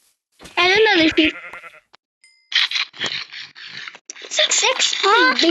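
Sheep in the Minecraft video game bleat in two wavering, nasal bursts, one early and one near the end, with game noise and possible voices between them.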